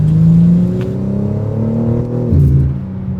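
A BMW G80 M3 fitted with a mid pipe, valve controller and aftermarket air intake pulls hard through the gears, its deep exhaust drone rising steadily, with a brief dip at a shift before climbing again, loud and close.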